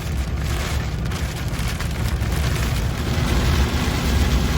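Hail pounds hard and dense on a vehicle during a storm, a loud continuous drumming clatter of countless impacts with deep booming thuds underneath, steady throughout with no voices.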